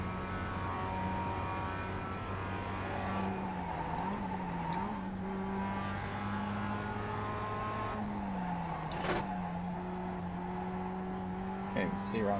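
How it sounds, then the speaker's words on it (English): Tires screeching in iRacing sim racing, engine drone with squealing tire tones rising and falling through corners, while a person talks over it. "The tire sound is a lot better in this than in other games"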